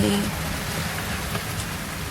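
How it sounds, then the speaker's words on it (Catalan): Steady rain falling on a sailboat moored in a crowded anchorage, a dense even patter heard from inside the cabin, with faint voices underneath. "no para de ploure"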